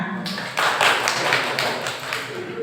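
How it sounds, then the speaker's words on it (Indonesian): A group claps in a brief burst of applause, dense and steady patter lasting a couple of seconds, fairly close. "Tepuk tangan."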